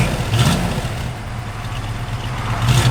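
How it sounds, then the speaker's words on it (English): 1966 Chevrolet Nova engine idling nearby and blipped in brief revs, a steady low rumble swelling at the start and again at the end. "Give it a little rev, Mike."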